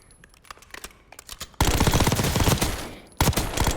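Automatic rifle fire in Warzone, a Saug build: scattered single shots give way to a loud sustained burst of rapid gunfire, a brief pause, then another close burst.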